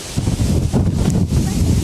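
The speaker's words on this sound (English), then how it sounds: "out here in the water, it's just a little bit windy" Steady wind buffeting a microphone outdoors by the water, a continuous low rumble with gusty rushing noise, loud and close, with no speech.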